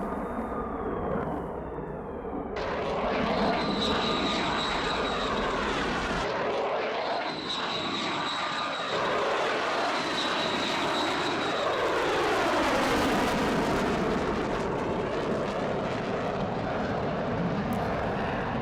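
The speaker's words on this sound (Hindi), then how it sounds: "ये दो फाइटर जेट्स इस वक्त आपके सामने" Ukrainian air force fighter jets flying, a loud sustained roar of jet engines that swells and shifts in pitch as the aircraft pass overhead.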